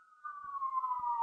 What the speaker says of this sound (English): This siren is a confirmation.